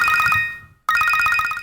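A telephone rings with a rapid trilling electronic bell, one burst, a short silent gap, then a second burst, loud and close with no talking.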